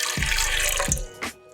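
Tap water runs steadily into a bowl while measuring out water for New York style bagel dough, a continuous splashing pour that stops briefly and resumes for a short final burst.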